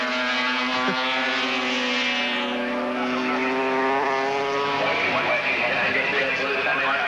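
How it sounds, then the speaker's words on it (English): Suzuki RG square-four two-stroke racing motorcycles with rotary disc valves race at a 1982 Surfers Paradise circuit event, a continuous loud high-pitched engine scream rising and falling as they pass, with race commentary over the top. "2 RGB Suzukis. That's Avant on A, Paul Lewis on 37. 4-cylinder, 2 strokes with rotary disc valves in a square 4 configuration"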